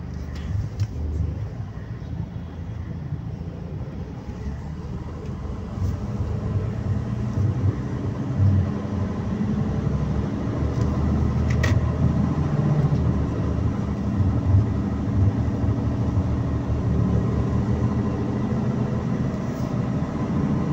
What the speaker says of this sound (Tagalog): Naku po, haba pala ng traffic.